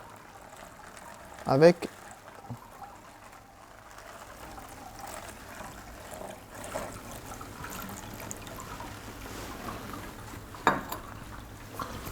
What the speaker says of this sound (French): je vais verser la même quantité d'eau